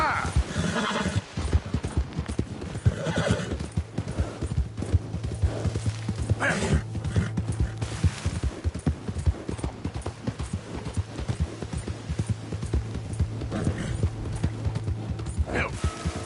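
Horse galloping with clip-clopping hooves and whinnies in Red Dead Redemption 2, hoofbeats steady and close throughout while voices shout over the action.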